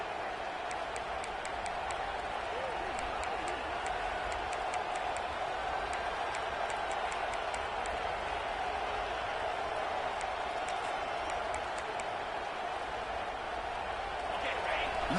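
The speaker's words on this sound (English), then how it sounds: "the crowd really making some noise now" Constant, dense roar of a large American football stadium crowd, steady and loud throughout, with faint ticking sounds scattered on top.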